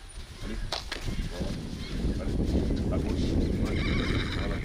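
Horses at a riding stable, three mares and three stallions, whinny and neigh while their hooves clip-clop, close and clear, with a voice talking over them throughout.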